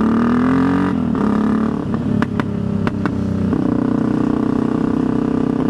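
A motorcycle with hollowed-out Scorpion mufflers, the fiberglass packing removed, rumbles nearby with a throaty exhaust that dips, blips in short revs, then settles back into a steady, loud drone.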